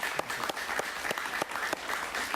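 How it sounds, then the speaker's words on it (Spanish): A studio audience at an evening talk show claps in a brisk, steady round of applause, moderately loud and close, with no voices over it. "Un aplauso para Eliezer Ávila,"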